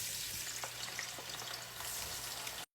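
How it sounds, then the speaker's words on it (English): Potatoes frying into french fries in hot oil, a steady close sizzle with faint crackles and bubbling, continuous and alone with no talk. "Let this simmer on low while I fry those potatoes."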